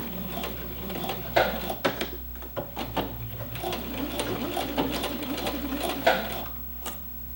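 A sewing machine runs in short close bursts of rapid stitching on a double dart, stopping and restarting as it back-stitches to finish the seam.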